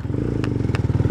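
A Zongshen 200 Skyline motorcycle cruising along, its engine thrumming in a steady, loud low drone with a couple of brief clatters over the top.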